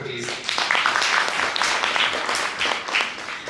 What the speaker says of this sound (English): So one round of applause for him, please.